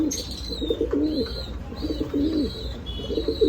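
Red Lahori fancy pigeons coo in soft repeated bursts close by, a throaty rolling call recurring several times, with faint chirps above.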